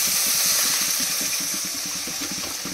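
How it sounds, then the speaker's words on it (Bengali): Water is poured into a fried, reddish fish curry sitting in hot oil in a pan, giving a steady, loud steaming hiss with a faint low bubbling underneath throughout. "এবারে জল দিয়ে দেবো।"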